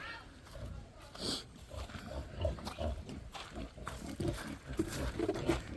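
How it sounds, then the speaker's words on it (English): Grunts from a pig on a family farm, one left alone in its pen, come as low snorts and rumbles scattered through the stretch amid outdoor background noise, with a voice talking nearby. "And this pig is now lonely."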